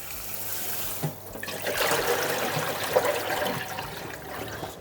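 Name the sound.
rinsing cooked duck with cold water in a strainer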